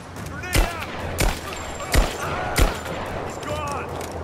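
Pistol shots from Rise of the Tomb Raider, four sharp cracks spaced roughly evenly over a few seconds, up close and distinct, with faint game ambience and small tonal effects in between.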